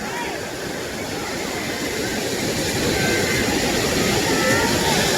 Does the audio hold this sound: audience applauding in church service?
no